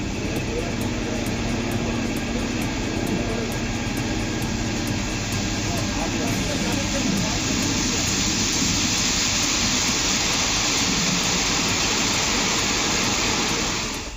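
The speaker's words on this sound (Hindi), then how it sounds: "डैम के गेट खुले तो पूरा समंदर मानो फूट पड़ा।" Water rushes through two of the eight gates of Kolar dam, each opened 40 centimetres after monsoon rain, making a dense, unbroken roar that stays loud throughout.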